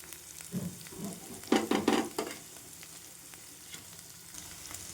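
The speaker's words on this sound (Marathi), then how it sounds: "छान कांदा भाजून घ्यायचा तांबूस रंग येईपर्यंत" Onion and fenugreek leaves frying in a pan for Maharashtrian kanda bhaji, a soft sizzle broken by a short burst of stirring scrapes and clatter, fairly quiet throughout.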